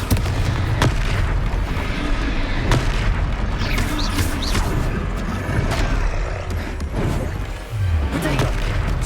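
In a Harry Potter wizarding video game, the Confringo spell sets off booming blasts amid noisy battle effects. There are several heavy thuds and bursts over a dense, continuous roar, with faint voices underneath.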